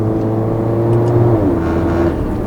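A 2015 Mercedes-Benz GLA 45 AMG engine drones loud and steady from inside the cabin, its pitch dipping once midway as a laggy downshift from fourth to third gear engages.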